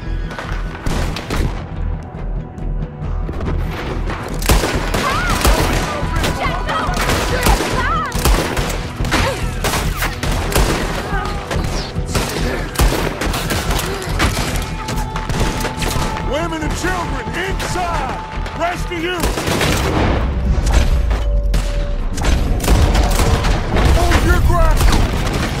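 Gunfire in a Red Dead Redemption 2 shootout: dense, loud volleys of rifle and pistol shots crack and boom almost continuously, with heavier blasts near the end, while characters shout over the fighting.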